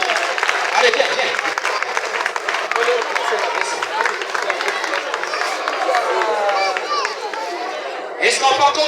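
Applause and crowd noise from an audience at a school awards ceremony, steady dense clapping mixed with chatter and voices throughout, loud and close.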